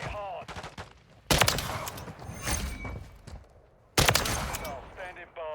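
Gunfire in a first-person shooter video game: two loud bursts of rapid shots, one about a second in and another near the fourth second, with quieter shots and game voices between them.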